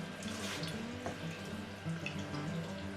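Rum distillate dripping steadily from a still's output, a continuous wet trickle and patter over a constant low hum of equipment, close and even throughout.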